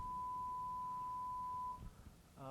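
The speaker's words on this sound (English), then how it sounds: "The sound of sine waves." A steady pure sine test tone from an audio system plays for almost two seconds during room acoustic tuning, then stops abruptly and leaves quiet room noise and a brief low buzz.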